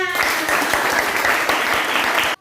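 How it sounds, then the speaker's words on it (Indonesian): Loud, dense clapping from a group fills the clip, steady throughout, then cuts off abruptly near the end. "Beri tepuk tangan"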